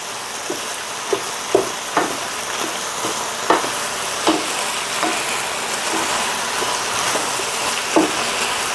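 Braised pork ribs in sauce are stirred in a wok over a steady sizzle, with repeated distinct knocks and scrapes of a spatula against the wok at an uneven pace.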